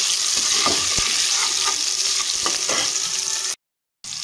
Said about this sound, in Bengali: সুন্দর করে আলুটাকে আমি ভেজে নিয়েছি